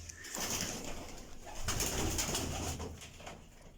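Low throaty cooing from high-quality breeder pigeons in a loft fills the space steadily and close, with overlapping calls from several birds and no voices.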